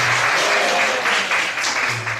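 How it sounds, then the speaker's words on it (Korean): A church congregation gives a round of applause during a festival worship service, with steady, moderately loud clapping that fills the hall and continues evenly from start to finish. "박수 한번 주세요."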